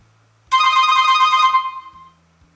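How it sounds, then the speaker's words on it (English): An Infinix Note 5 Stylus phone ringtone chimes loudly for about a second and fades, with quiet low electronic tones stepping underneath before and after. "every time you get a call, you can flip your phone to mute the ringtone"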